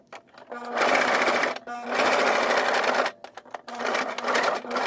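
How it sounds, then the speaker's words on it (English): A sewing machine stitches thick fabric for figure skate and hockey soakers (soft blade guards), running in three steady bursts of fast, even needle clatter separated by short pauses. "So I just finished sewing both of these ends"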